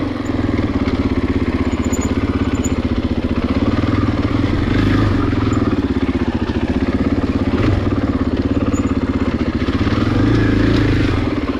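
A 2020 Husqvarna FE501S motorcycle being ridden, its engine loud and close with a steady droning thump and small throttle variations, along with faint clatter throughout.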